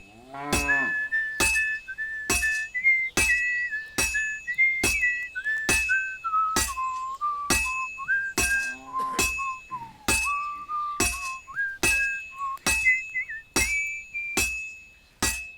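A rising and falling melodic whistle in Kingdom Come: Deliverance II, broken up by sharp regular clinks like a tapped glass at about one-second intervals, each a little louder than the tune.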